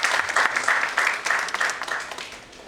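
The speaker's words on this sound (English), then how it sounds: "You can give an applause, occasional applause as well." At a one-day digital technology seminar, the audience breaks into applause: dense rhythmic clapping that starts strong and gradually fades toward the end.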